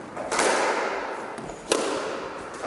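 Squash balls striking the court wall during a two-ball boast-and-drive drill, with two sharp, fairly loud impacts about 1.3 seconds apart echoing in an enclosed court.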